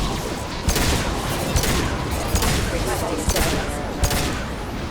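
Explosions and gunfire in the Mass Effect 2 video game, a dense continuous barrage of shots with several sharper blasts punching through at intervals, loud throughout.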